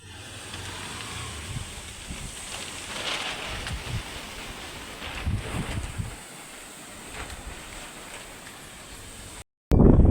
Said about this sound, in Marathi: सुटला हे वारं सुटलं तर सगळं जे फवारी झाली होती ते बी बंद झाली